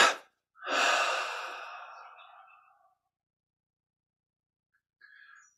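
A long, heavy exhale through the mouth after a held breath in a Kriya Yoga breathing exercise, close and loud, fading out slowly. A short sharp breath comes before it and a faint brief sound follows after the silence.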